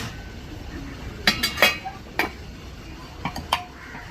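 Kinnathappam batter stirred and scooped in a pot with a metal spoon, giving scattered sharp clinks and scrapes against the vessel over a soft background hiss, several taps clustered close together.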